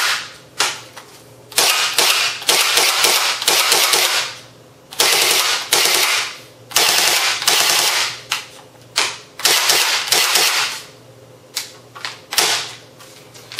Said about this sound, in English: I'm going to shoot this just dry fire it a little bit more just so you guys can hear, again, what it sounds like pushing the switch